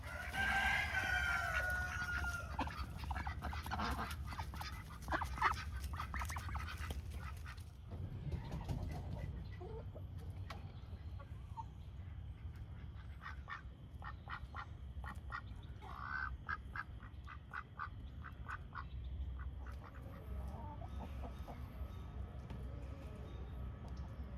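Young backyard chickens in a garden cluck, cheep and crow, with duck-like quacking mixed in, in a steady, busy chorus of close bird calls.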